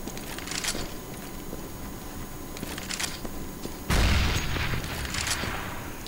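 AK rifle fire rings out in a CS:GO match, quiet and somewhat distant, with a few scattered shots and then a heavier burst about two-thirds of the way through.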